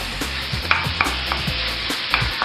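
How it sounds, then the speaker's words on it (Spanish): Chopped chicken breast fries in a pan with a continuous sizzle, while a utensil stirs and scrapes with irregular knocks close up. "Aquí ya tengo mi pechuga de pollo picada, que también la voy a colocar aquí dentro"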